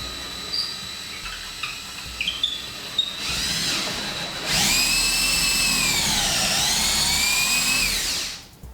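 A power drill whirs while garage shelves are built, running in two close, loud bursts with rising and falling pitch as the speed changes, after a few light clicks.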